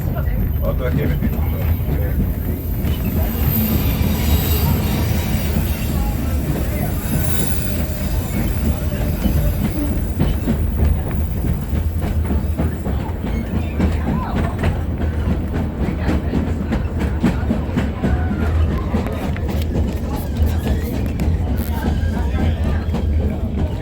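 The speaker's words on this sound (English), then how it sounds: "Sister train number 2 will be passing us by on the left." A train rumbles loudly past nearby near Glacier Station, with steady wheel clatter and a squealing metallic edge, while a murmur of passengers' voices carries underneath throughout.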